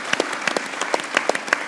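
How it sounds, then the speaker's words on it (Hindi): Studio audience applause on a Pakistani cricket talk show, short bursts of clapping from a small crowd, fairly close and lively, with no talk over it. "फखर जमान के लिए भी तालियां बजाना चाहता हूं।"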